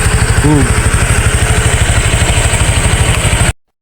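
A motorcycle engine runs steadily close by with a regular low putter and clatter throughout, loud and continuous before cutting off abruptly near the end; a brief voice-like tone appears early.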